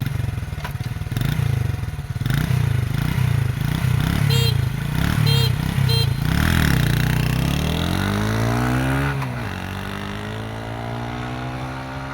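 A Honda CD 70 motorcycle and a scooter race side by side, their small engines droning and revving loudly with pitch rising and falling through gear changes, then easing off as they pull away near the end.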